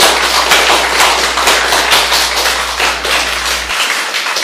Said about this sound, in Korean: 우리 오준원 화백님께 우리 다 같이 박수 한번 보내주시면 어떨까요?